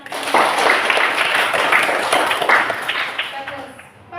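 A class of eighth-grade students at a junior high school in Salatiga claps together in their classroom, a dense, steady patter of many hands lasting several seconds before tapering off.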